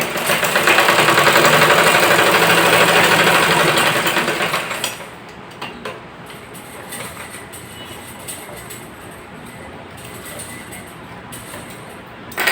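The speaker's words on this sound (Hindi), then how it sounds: "किनारे किनारे हम यहाँ पे सिलाई चला लेंगे।" A sewing machine runs a fast, loud, continuous stitching whir as a strip is sewn along the edge of ladies' pants, then stops abruptly about midway, leaving quiet handling sounds.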